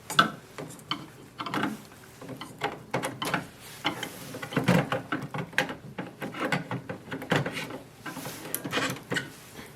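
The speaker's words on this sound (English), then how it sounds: "So slide it in and press it until you hear a lock." A series of plastic clicks and snaps, close up, scattered irregularly as an ink cartridge is pushed and locked into an HP OfficeJet Pro 9015e printer.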